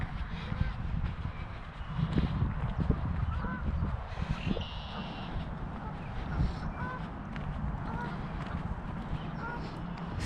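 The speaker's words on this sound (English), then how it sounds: "There's some ducks flying around here." Ducks calling while flying around a trail, a few scattered honks and quacks over shuffling footsteps and steady outdoor noise.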